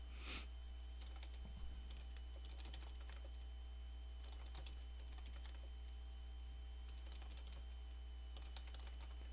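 Someone types text on a computer keyboard in an ongoing run of faint, light key clicks over a steady electrical hum, quiet and close.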